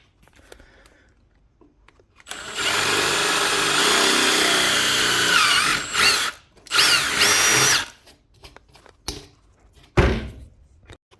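A power drill bores a hole through wood for a countersunk bolt, one loud sustained run of about four seconds followed by two shorter bursts, with clunks and handling noises between them.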